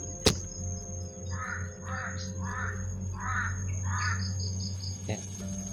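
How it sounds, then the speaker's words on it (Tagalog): A large group of crows cawing outdoors, a run of about five harsh caws in quick succession with higher calls following, over a steady insect drone and low hum. "Sobrang daming uwak."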